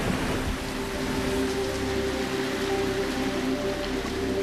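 Steady rain in an Andean cloud forest in Colombia, a dense continuous hiss of falling drops with a low constant hum beneath, unbroken throughout.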